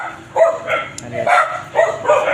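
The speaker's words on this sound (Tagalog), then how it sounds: "Ay, mga aso dito guys." Several dogs bark in quick bursts, close by and loud, with short yips mixed in between the barks.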